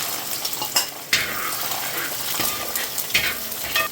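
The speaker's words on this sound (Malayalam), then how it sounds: "ഇച്ചിരി കടുക ഞാൻ പൊട്ടിക്കത്തുള്ളൂ ഇതിന് രണ്ട് മൂന്ന് ഉലുവയും പൊട്ടിക്കും" Mustard seeds and a few fenugreek seeds crackle in hot oil while a lime pickle is prepared, a steady close sizzle broken by sharp pops and brief stirring scrapes, with no voices.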